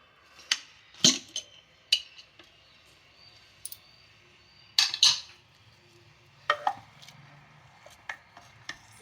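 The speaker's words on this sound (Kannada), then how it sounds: "ಮೂರು ಆಗಲಿ ವಿಷಲ್ ಹಾಕಿದೆ ಓಪನ್ ಮಾಡ್ತಾ ಇದ್ದೀನಿ ಮುಚ್ಚಳನ" A pressure cooker lid is opened after three whistles while broken wheat payasam cooks. Sparse, sharp metallic clinks and clacks come close by, with quiet gaps between them.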